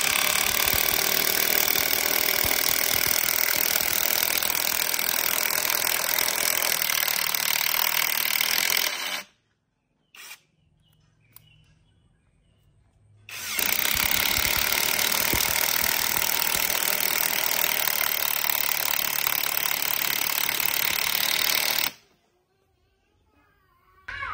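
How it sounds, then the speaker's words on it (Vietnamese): Himoki 650 Nm impact wrench with a 13 mm socket driving wood screws, a loud, dense rattling hammer noise in two long bursts separated by a short quiet pause, with no talking. "Em sẽ dùng khẩu 13 em bắn trên vít gỗ nhá."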